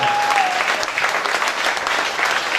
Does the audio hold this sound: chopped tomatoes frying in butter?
no